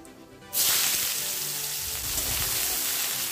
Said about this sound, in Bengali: পেঁয়াজগুলো ভালো করে লাল লাল করে ভেজে নিয়েছি